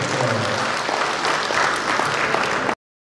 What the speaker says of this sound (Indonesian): Tepuk tangan untuk saudara-saudara semua